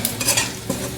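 A chicken chaap mixture sizzles in a pan over onions and chilies, a crackling frying hiss broken by a few short scraping stirs, close and fairly loud with no voices.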